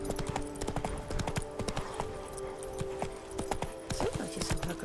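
Roach, the horse in the video game The Witcher 3, gallops with steady, rhythmic clip-clopping hooves. A faint voice and background tones run underneath.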